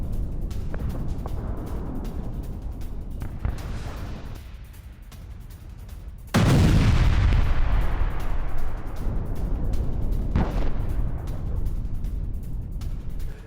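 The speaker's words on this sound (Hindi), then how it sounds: "इजराइल के बड़े इलाके में मिसाइल अटैक।" Missile and rocket attack over a wide area of Israel in news footage: a sudden loud explosive blast lands midway, followed by a long rumbling decay, with a second sharp burst later over a steady background roar.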